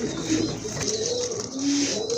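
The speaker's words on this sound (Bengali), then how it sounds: "আর এক জোড়া রাজগোল্লা কবুতর অনেক বড় সাইজের কবুতর" Large Rajgolla pigeons coo close up, a couple of drawn-out throaty calls rising and falling over a steady background hum.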